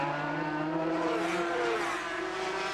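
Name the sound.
Grand Prix racing motorcycle engine on the straight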